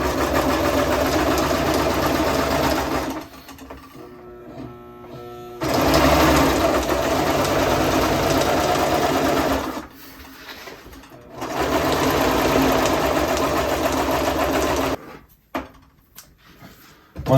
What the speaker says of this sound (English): sewing machine's not really made for this, but I am getting it to work